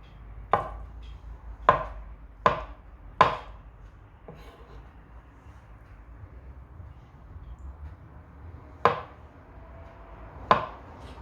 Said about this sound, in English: so I just chop them.